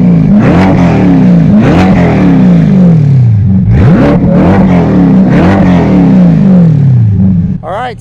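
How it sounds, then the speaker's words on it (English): A Chevrolet Corvette C8 with a Paragon Performance cat-back track exhaust revs hard several times in a row, rising and falling sharply with a deep, raspy roar close to the listener. "this is the track exhaust from Paragon Performance,"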